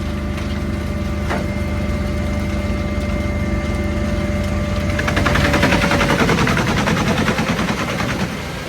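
A wood chipper grinds up Christmas trees, its engine droning steadily and then bogging into a dense, rough crunching roar as a large load feeds through, loud and close without voices.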